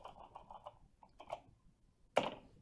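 Quiet, close clicking of keys on a computer keyboard while typing Java code in NetBeans, a quick run of light taps, a pause, then one sharper, louder keystroke near the end.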